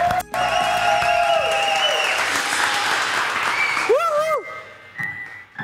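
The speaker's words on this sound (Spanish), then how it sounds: "Señoras y señores, recibamos con un fuerte aplauso a David Comedia." Loud, sustained applause from a comedy show audience in a bar, dense clapping that swells and holds for several seconds with a few whistles near the end.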